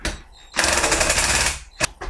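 A power drill boring into a wall during a DIY central heating install, a loud, rattling, continuous whir lasting about a second, preceded and followed by brief quieter mechanical noise.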